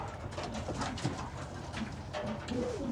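Pigeons coo softly and repeatedly in a close, enclosed breeding loft, several low burbling calls overlapping over a steady background hum.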